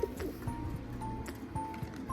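Pigeons kept in a home loft coo softly, with low rolling calls repeating in a slow, uneven rhythm over faint background noise.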